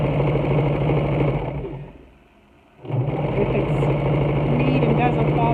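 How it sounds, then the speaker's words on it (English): A sewing machine back-stitches the seam of a half apron, running with a close, steady mechanical whir that stops briefly and then resumes. "I back stitch there just to give it extra strength"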